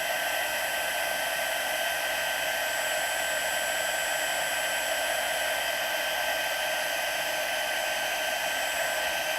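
A heat embossing tool blows hot air over embossing powder on a handmade wedding card, giving a constant loud whooshing hum with no change or pauses and no voices.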